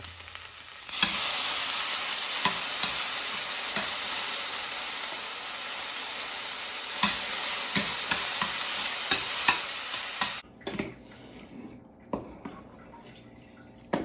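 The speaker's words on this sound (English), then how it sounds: "Okay, so the milk has started to boil a little." A garlic milk sauce for salmon with mushroom and spinach heats in a pan, giving a loud, steady hissing sizzle with scattered pops and clinks that cuts off near the end, leaving faint bubbling and a few knocks.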